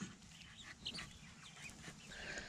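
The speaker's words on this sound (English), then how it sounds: "So these are my wife's Polish chickens." Soft clucks and peeps from a small flock of Polish chicken chicks, close by, scattered over a steady low background rumble.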